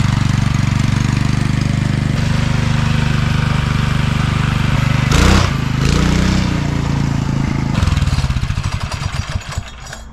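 A small minibike engine runs loud and close on a ride, holding a steady buzzing drone, briefly revving around the middle, then dropping into a choppier, pulsing idle near the end.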